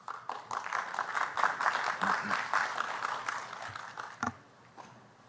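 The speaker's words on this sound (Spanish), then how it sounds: "La recibimos con un fuerte aplauso, por favor" A small audience at a legal seminar in Lima applauds the arriving judge, scattered claps building into a modest burst that thins out and fades, with some voices murmuring alongside.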